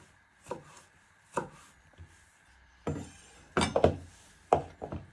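A knife chops onion and garlic on a wooden cutting board in a home kitchen, striking in irregular, close, crisp thuds that grow heavier and come in quick bursts toward the end.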